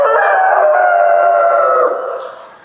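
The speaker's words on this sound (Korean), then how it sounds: "잠에서 깬 닭입니다" A rooster in rural Samcheok crows once, loud and close, one long drawn-out call that holds steady before fading away at the end.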